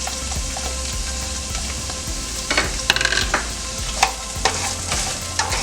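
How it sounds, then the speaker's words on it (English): A whole medium-sized diced green or yellow onion sautés in a hot pan, a steady close sizzle with spoon scrapes and stirring knocks scattered through, no voices. "We're gonna saute that for about 3-4 minutes or until it's translucent"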